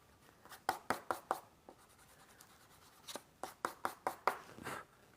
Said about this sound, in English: now let's erase some of these lines